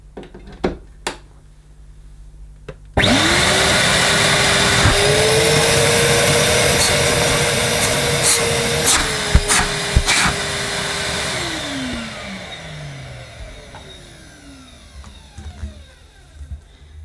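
A Henry HWD370 wet and dry vacuum cleaner switches on with a sudden loud, steady roar that holds for about nine seconds, then winds down with a falling whine; a few faint clicks come before it starts.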